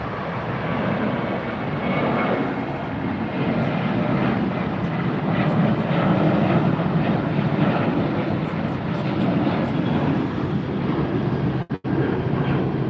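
United Airlines jet in Star Alliance livery passing at LAX, a loud, continuous engine roar holding steady for the whole stretch with a brief dropout near the end.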